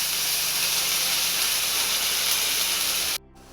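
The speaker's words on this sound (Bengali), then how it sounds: "এবার এর মধ্যে দিয়ে দিচ্ছি বাটা পেঁয়াজটা।" Onion paste hits hot oil in a wok already holding cardamom, cinnamon, cloves and two dried red chilies, making a loud, dense, continuous sizzle that cuts off abruptly near the end.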